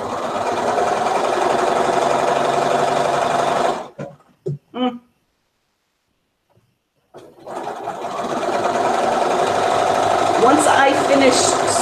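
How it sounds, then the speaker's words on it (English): A sewing machine stitches scrappy quilt squares, a loud, fast, steady whir that stops for a few seconds with some faint clicks, then starts up again and runs on. "Once I finish sewing these 25"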